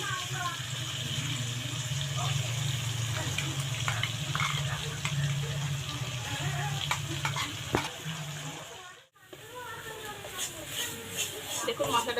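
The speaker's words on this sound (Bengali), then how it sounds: "আদা রসুনের পেস্টটা এবার ভেজে নেবো" Ginger garlic paste fries in oil in a pan, giving a steady sizzle with some stirring scrapes and a brief gap before the hissing resumes. A voice speaks intermittently over it.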